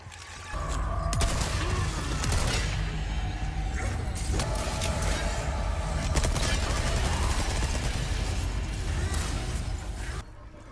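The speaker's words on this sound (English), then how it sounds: "listen to the shotgun and the SMG sounds and then you see what I mean." A shotgun and an SMG fire in Resident Evil 4 Remake, with dense, loud bursts of gunfire and booming shots that run almost continuously for about ten seconds before cutting off.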